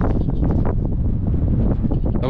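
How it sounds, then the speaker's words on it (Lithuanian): Strong wind buffets the microphone on an exposed coastline in England, a continuous loud low roar with gusty surges throughout. "Va čia dabar jūs girdit, kaip pučia vėjas"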